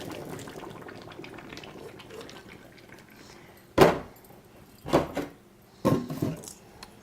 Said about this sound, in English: we're just going to drain the water from our broccoli and our carrots